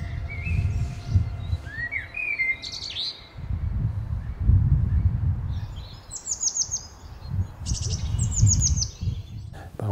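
Songbirds such as blue tits or robins sing in bright, clear chirps and descending trilled phrases, moderately close, over a low rumbling background with some murmur.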